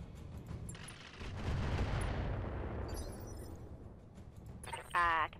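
Heavy mech weapons in the RogueTech battle game fire in a dense, rumbling barrage that swells and holds for several seconds, ending in a sharp burst, with game voices talking over it.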